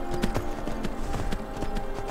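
Horse hooves clip-clop at a steady walking pace in Skyrim on Xbox One, each hoof fall distinct and close over low game ambience.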